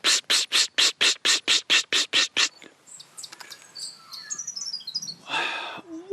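Birds in bushfire-hit Upper Murray country call up close: a run of ten loud, evenly spaced harsh notes, then a scatter of quick high chirps and tweets and a short raspy burst, with no talking.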